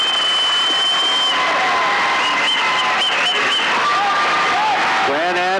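A basketball arena crowd roars and applauds, a loud sustained wall of cheering with whistles and shouts rising through it, while a commentator talks over the noise.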